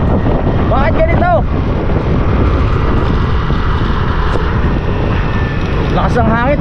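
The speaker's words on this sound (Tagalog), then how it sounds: "Lakas ng hangin, tinatangay ako." Strong wind roars steadily and loudly into the microphone, buffeting without pause, with a voice speaking briefly at the start and end.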